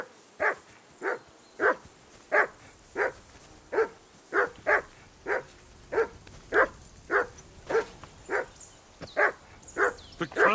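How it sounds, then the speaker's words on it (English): A dog barks repeatedly in Kingdom Come Deliverance 2, around eighteen sharp, steady barks at a regular rhythm, close and prominent, with faint background sound between them. "Call off that damn dog before he wolfs down the last of our mates."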